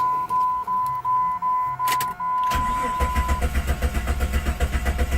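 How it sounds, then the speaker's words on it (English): A Jeep with a 4.0L six-cylinder engine and a P0320 fault code cranks but does not fire, after a chime beeps repeatedly. The starter then churns in a rapid rhythmic whir, close and steady, with no catch. "Yep, just spins over, no start."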